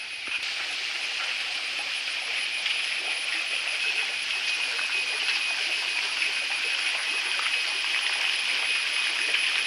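Falling water pours continuously at a zoo in Kopargaon, a steady, bright rushing and splashing wash that stays close and even for nearly ten seconds, with no voices over it.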